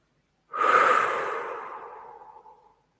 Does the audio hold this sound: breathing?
yes